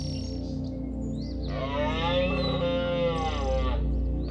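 A male elk roars in autumn within a herd, a loud drawn-out bugling call rising over steady low background rumble for about two seconds.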